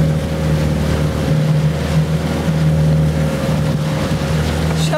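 A loud, steady sailboat engine drones with a constant hum while small sea waves rush and slosh against the hull.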